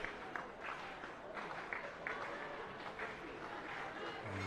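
Stadium crowd at an international track meet clapping in a steady, sustained patter, distant and spread out, with rhythmic claps rising now and then and a commentator talking over it.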